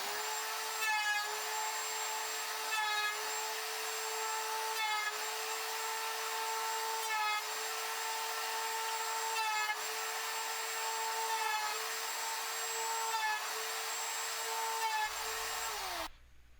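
Router bit cutting a wooden drawer joint for a Gerstner-style tool chest, a steady loud whine with a few repeated passes over about sixteen seconds before the motor winds down and stops.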